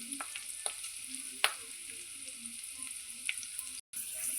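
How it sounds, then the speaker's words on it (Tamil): Pirandai (veldt grape) frying in oil for chutney, a steady close sizzle with occasional light spatters and stirring clicks, fairly quiet and without talk. "பாருங்கள் எண்ணெயில் போட்டு நல்லா வதங்கிடுச்சு"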